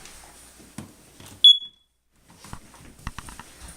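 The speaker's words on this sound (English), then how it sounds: "If the carbon monoxide alarm sounds," A carbon monoxide alarm gives a single short, piercing high-pitched beep, loud and close, between quieter background sounds.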